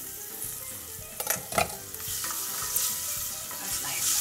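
Onions and garlic frying with spices in a pan for a dal, a steady sizzle with a few louder stirring scrapes near the start, close and moderately loud, no talking.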